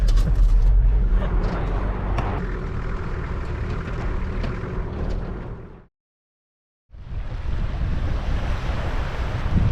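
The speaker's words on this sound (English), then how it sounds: "It's so windy." Strong wind buffets the microphone over crashing ocean surf on the Ningaloo Coast at Cape Range National Park, loud and continuous, with a brief second of silence before the roar of wind and waves resumes.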